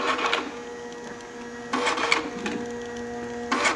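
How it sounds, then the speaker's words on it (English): A cab A4+M heat shrink printer and cutter with a feeder for big spools runs steadily, giving a close mechanical whir with three louder bursts as material feeds and cuts, and no talking. "is the cab A4+M heat shrink printer cutter"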